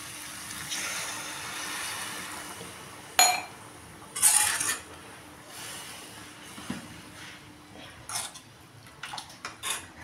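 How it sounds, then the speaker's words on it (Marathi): Water poured into oil-fried ground masala in a pan for a dhaba-style rassa curry, with a couple of sharp splashy bursts and light clinks of metal utensils over a quiet kitchen background. "आता आपण ह्यामध्ये पाणी टाकणार आहोत."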